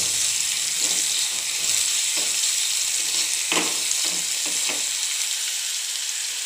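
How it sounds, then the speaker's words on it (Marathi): Fried rice is sautéed in a pan with a constant loud, hissing sizzle. Occasional soft scrapes and knocks of the spatula stirring the rice sound beneath it. "एक 2-3 मिनटं परतून घ्यायचं आहे आपल्याला"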